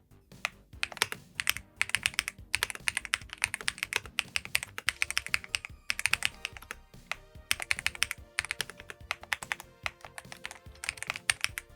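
Rapid, clacky keystrokes on an Epomaker mechanical keyboard, close and crisp, in bursts of steady typing with brief pauses between words.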